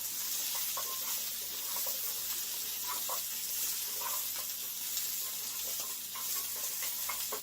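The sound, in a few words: kielbasa and frozen pierogies frying in a pan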